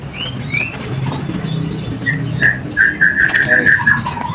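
A dove's cooing call rings out in a series of clear repeated notes, mixed with wing flutters and rustling nearby.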